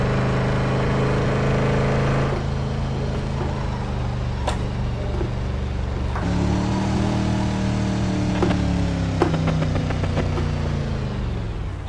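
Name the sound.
car engine revving in a PS4 driving video game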